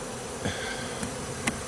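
Bees buzzing at a hive in Tennessee, a dense continuous hum of many insects close by, with a few louder individual passes standing out briefly.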